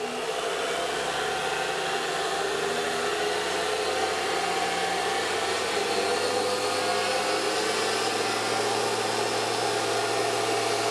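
A pulse motor runs steadily on about 97 volts, drawing a couple of amps, giving a continuous, fairly loud motor whir with low hum tones that holds unchanged throughout, with no talk.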